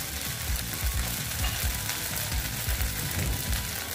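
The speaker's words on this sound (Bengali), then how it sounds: "দিয়ে এটাকে আমি ভালো মতন কষিয়ে নেব" Ground peanut, mustard and poppy seed paste fries with pointed gourd in a pan, making a dense, continuous sizzle and crackle while it is stirred and scraped with a steady rhythm close to the microphone.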